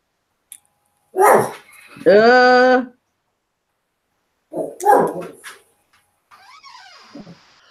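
A small dog barks in short sharp bursts, a couple of yaps then a drawn-out whining bark, followed after a pause by a few more barks, close and loud with quiet gaps between.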